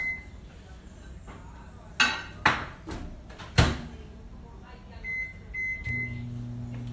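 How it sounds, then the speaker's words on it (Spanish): A microwave oven melting chocolate while alfajores are being made: a few sharp clunks and clinks as the door and dish are handled, short keypad beeps, then a steady low electric hum as the oven runs. "yo, como tengo el microondas, voy a utilizar el microondas en este caso"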